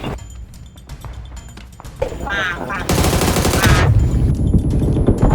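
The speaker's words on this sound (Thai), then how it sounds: "มีคนยิง" Gunfire in the video game PUBG crackles in rapid bursts, loud and close, with a dense sustained volley near the end while players shout excitedly over it.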